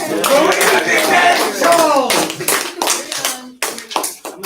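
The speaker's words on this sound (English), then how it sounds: "Hey, clap." A group applauds a Renaissance woman presentation, a burst of brisk hand clapping that thins into scattered claps, with voices speaking over it.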